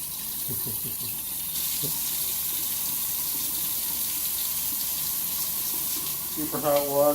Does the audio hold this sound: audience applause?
no